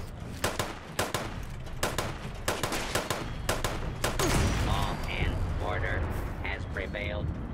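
Gunshots in Fallout 76 fire in a regular series of sharp, loud single cracks about half a second apart, then give way to a rumbling blast and a voice talking over the fading noise.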